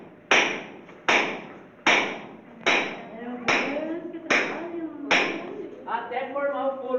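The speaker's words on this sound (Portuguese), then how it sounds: "Uma haste dessa aqui de 4 pontas e uma mareta. E a bater para adiante." A mallet strikes a four-pointed steel rod to drill into stone, seven sharp metallic blows at a steady, roughly one-per-second rhythm, each ringing briefly, with someone talking between the later strikes.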